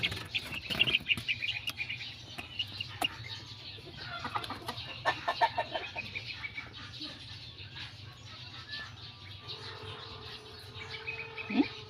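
Healthy young chicks being fed rice treats chirp and cluck in scattered bursts, close by, with faint hum beneath and a voice briefly near the end.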